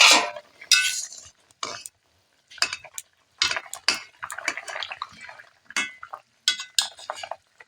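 A lid comes off a pot of cooking ash gourd. Sharp metallic clinks and scrapes of cookware and utensils come in short, separated bursts with quiet gaps between them, close and fairly loud.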